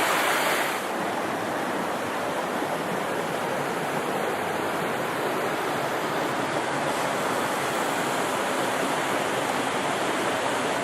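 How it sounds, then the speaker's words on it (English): A branch of a river rushes past where it splits around a small island beside a boulder field, a continuous loud broadband roar of flowing water close by with no voices. "This is actually just a part of the river that splits right here, so it's not the full volume."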